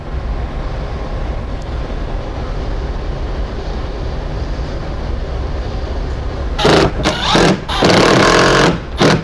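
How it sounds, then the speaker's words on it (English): A power tool drives 8mm fender liner bolts back into a VW Jetta, heard as a few short, loud whirring bursts that cut through a steady background rumble near the end. "Now we can go ahead and put our 8mm bolts for the fender liner back in."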